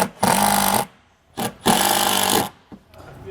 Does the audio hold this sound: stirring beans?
no